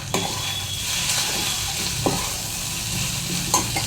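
Oil heats in a hot pan for bhujia with a steady, close hiss of sizzling, broken by a few sharp utensil clinks against the pan, with no voices.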